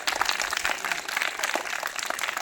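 A crowd of children claps together at a Zilla Parishad primary school Independence Day drill in Bambhori Khurd, Erandol, Jalgaon. The dense, steady applause fills the whole stretch with no pause.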